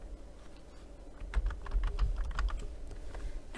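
Someone types on a computer keyboard at a desk, a quick run of close, crisp key clicks over a low room hum, starting sparse and growing denser, with no speech.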